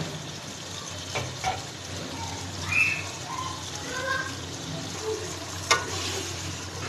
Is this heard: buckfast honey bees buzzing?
no